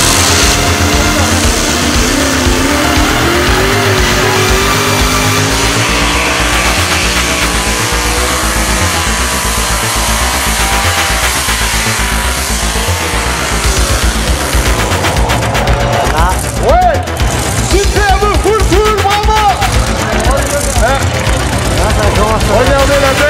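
A pulling tractor's hemi engines built by Brad Anderson rev hard at a 2017 tractor pulling event in Bernay, giving a loud, sustained, rattling roar with rising harmonic whines near the end while an announcer talks over it.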